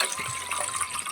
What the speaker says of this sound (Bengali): এবার একটা ডেস্কি নিয়ে নিয়েছি, এতে জল দিয়ে দেব